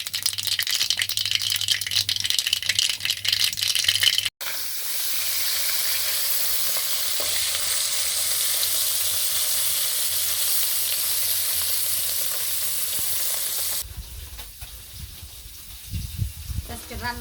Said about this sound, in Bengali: তেলের মধ্যে যখন সরিষাটা দিলে পরে ছিটিয়েও যায় না